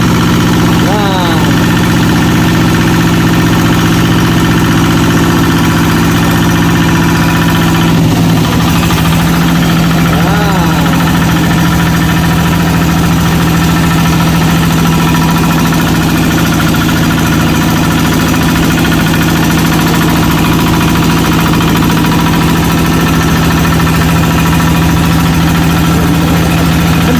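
A Kubota diesel engine idling at low RPM with its throttle lever not yet opened, a steady loud drone with a deep hum and constant knocking vibration, unchanged throughout.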